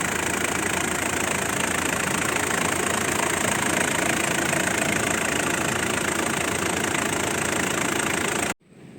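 A 2002 Mitsubishi Pajero V76 with a 4M40 diesel engine idles close by, a steady rattling diesel clatter that runs evenly for about eight seconds before cutting off abruptly.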